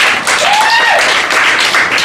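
A comedy night crowd at a cafe in Richmond, Virginia applauds in a loud, continuous wash of clapping, with a thin whistling tone rising and falling through the middle.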